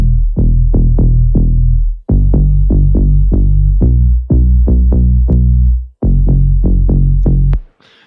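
Layered bass sounds for a piano house track, filtered down with the low and high ends cut, playing together as a dense, loud, low throbbing line of repeated notes in phrases with short gaps.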